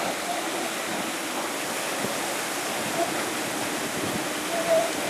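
Water from a fountain splashes and rushes steadily and close by in a continuous wash, with no talking over it.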